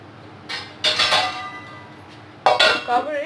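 A metal lid is set over a bowl of suji uttapam batter, producing two clattering bursts of clanks and rattles, close and fairly loud, with quiet gaps between.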